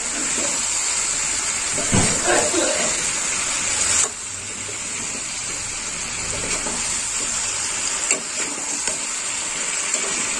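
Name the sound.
cauliflower curry frying and stirring in a pan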